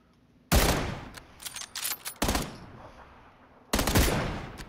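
Three loud bursts of video game gunfire crack out close by, each a quick cluster of shots separated by short pauses, with no talk.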